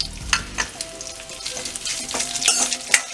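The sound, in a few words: frying karpuravalli leaves in oil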